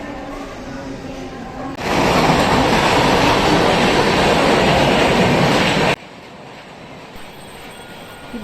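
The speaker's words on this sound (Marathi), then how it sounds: "ही बघा, 8:30ची बदलापूर लागली होती." An 8:30 suburban train to Badlapur at a station, a loud roaring rush of carriages that swells suddenly, holds for about four seconds, then cuts back to a quieter rumbling platform ambience.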